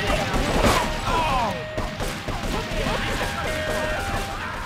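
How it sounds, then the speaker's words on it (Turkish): A loud crashing blast near the start as a car explodes in Grand Theft Auto III, then a stretch of rapid clattering bangs and mechanical noise, like gunfire. "Arabaya bak, patladı."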